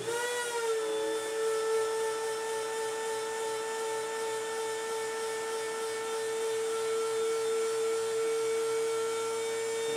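A Shapeoko Pro CNC router cuts aluminum with a loud, steady high-pitched whine that rings with a resonant tone, holding constant and close for the whole stretch with no talking.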